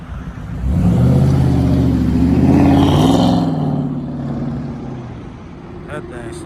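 A 2020 Dodge Charger widebody with its mid muffler deleted revs up in one long, loud rise and fall of engine roar, heard close from outside with voices talking over it.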